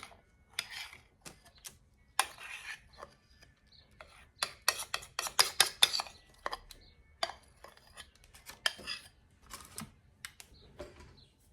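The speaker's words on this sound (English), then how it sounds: "And then we are just going to put it into our pan." Melted chocolate and Easter candy pieces such as Twix, Snickers, Take 5 and raspberry jellies being scraped and tipped into a pan, heard as a close run of irregular scraping, clinking and tapping bursts with no talk.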